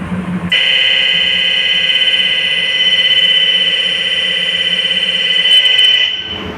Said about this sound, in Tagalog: Oh, testing of fire alarm.